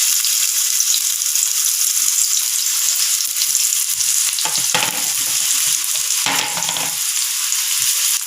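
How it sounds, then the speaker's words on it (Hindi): Onions frying in hot oil in a pan for a spicy omelet, a loud, dense, steady sizzle up close that swells briefly twice as the pan is stirred, with no voices. "ऑयल में प्याज को डालेंगे।"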